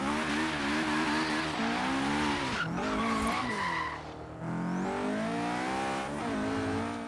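A turbocharged Honda S2000 drifting in the video game Forza Horizon 3, with long sustained tire squeal and skidding over a revving engine that rises and falls with the throttle.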